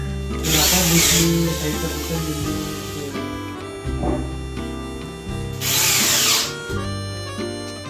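A power tool at a construction site whirs loudly in two short bursts of about a second each, separated by quieter stretches of background hum and clatter.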